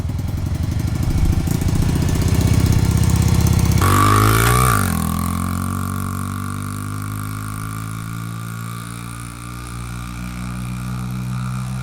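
A pit bike's small engine runs loud and close, with a steady buzzy drone that shifts pitch partway through and then settles into a lower, rougher idle.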